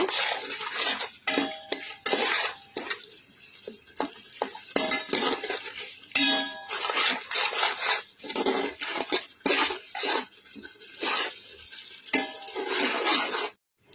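A spatula repeatedly scrapes and clatters through onion-free, garlic-free vegetarian biryani masala in a pan as chili powder is stirred in, loud close bursts of scraping separated by short pauses, with a faint sizzle beneath.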